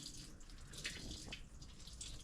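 Water splashing and dripping while muskrat pelts are rinsed by hand, a close, continuous wet sloshing with small drips and squeezes, no talking.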